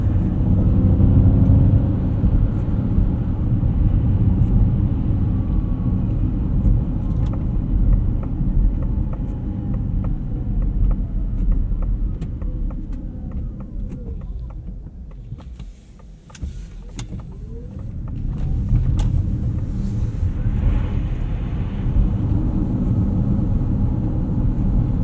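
A 2024 Ford Mach-E Rally electric car driven on a street in unbridled mode: a steady, loud low road and motor rumble with tire noise that dips briefly midway, then returns.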